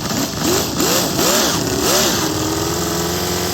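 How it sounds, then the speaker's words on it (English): Scale V8 engine in a 4WD RC monster truck, running rich and low on fuel, revs up in several quick rising and falling bursts before settling into a steady idle, loud and close with no voices. "As you heard, it was just revving up, and that was because it was running out of fuel."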